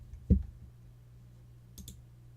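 Computer mouse clicks while browsing online listings: one sharp near click early, then a quieter double click near the end, with a faint hum between.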